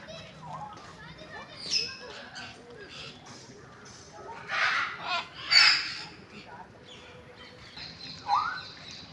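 An African grey parrot gives scattered squawks and a rising whistle at an aviary during a holiday outing, mixed with other bird calls and people talking nearby.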